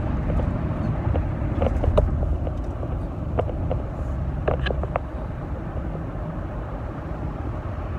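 Steady interior car rumble while driving, a loud continuous low drone with wind buffeting and a few faint ticks or clicks, no talking.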